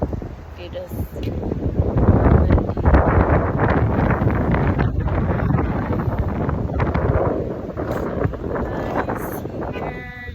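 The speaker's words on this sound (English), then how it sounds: "okay, that's windy" Strong outdoor wind buffeting the microphone beside a highway near a university hospital, a loud low rumbling roar that swells and dips throughout, with faint traces of other sound underneath.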